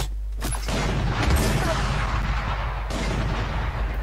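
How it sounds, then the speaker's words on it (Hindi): A spike bomb detonates in the tactical shooter Valorant, a loud booming blast with rumbling gunfire-like crackle that sustains for several seconds. "time to explode"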